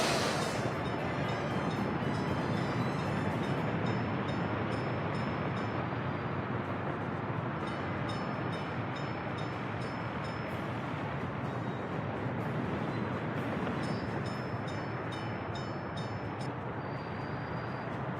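Trains rumble through a busy rail station in the game Workers & Resources: Soviet Republic, a steady, dense rolling drone of wagons with faint clatter throughout, continuous and unbroken.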